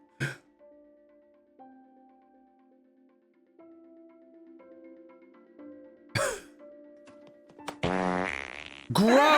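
A cartoonish fart sound in a streamed game of Court & Locomotor, a short blurting burst arriving after quiet stretches of soft electronic tones, with another loud bubbly rasp at the end.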